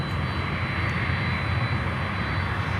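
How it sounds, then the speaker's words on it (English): Cargojet Boeing 767 freighter at Miami airport, its engines giving a steady, broad low roar in the background throughout, with no speech. "we hear in the background cargo jet 767"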